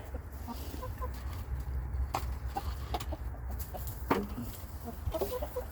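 Chickens cluck softly now and then at a snowy-day feeding, scattered short calls over a steady low outdoor rumble, with no talking.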